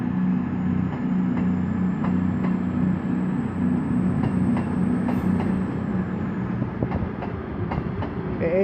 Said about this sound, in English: the next train to pull out is 221105 off to London Euston